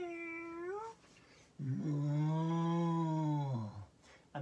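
A yoga teacher imitates animal sounds during a cat-cow pose: a short nasal cat-like call, then a long, steady, low cow moo, both voiced, close and alone without other talk.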